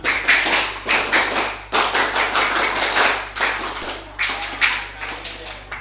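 A group of students at a junior high school organization training session performs the Pramuka scout clap, sharp rhythmic bursts of many hands striking together in repeated patterned sets, loud and close, with no talking.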